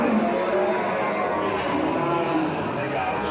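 Limousin cattle at a busy livestock market, with a dense crowd murmur and animal noise filling the space and people talking throughout.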